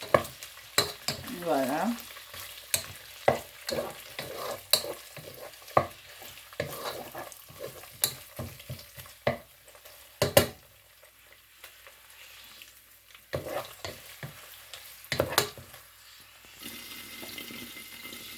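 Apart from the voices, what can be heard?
smoked mackerel added to a pan, frying and stirring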